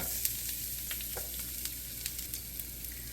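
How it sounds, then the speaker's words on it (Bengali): Chopped garlic frying in a hot pan with a tempering of nigella and fenugreek seeds, a soft, steady sizzle with scattered small crackles and pops, fairly quiet and close. "রসুন কুচি দিয়ে ঠিক এক মিনিট ভেজে নেব"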